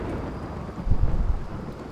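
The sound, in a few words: rain and thunder in video game Rimworld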